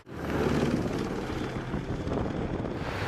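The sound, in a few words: Australian AH-64E Apache helicopter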